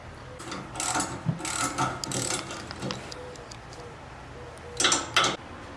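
A hand ratchet clicks in short, quiet bursts while loosening the bolts on the recovery point of a 3rd-gen Toyota Tacoma bumper, with brief pauses between strokes and a louder flurry near the end.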